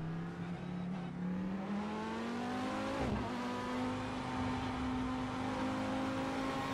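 VW Beetle engine revving in Assetto Corsa, a steady droning hum that rises gradually in pitch, dips and shifts sharply around the middle, then holds a higher whine at moderate, constant loudness with no talk.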